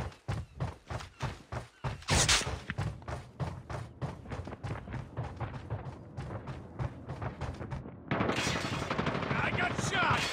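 Rapid bursts of automatic gunfire in Call of Duty Mobile, a fast string of loud shots followed by a denser, harsher burst, with game voices speaking in between.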